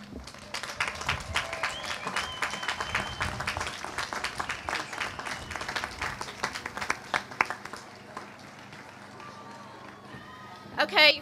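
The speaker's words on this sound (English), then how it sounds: "let's give them a round of applause" A large crowd at a graduation hooding ceremony claps in sustained, dense applause that stays steady for several seconds, mixed with scattered voices.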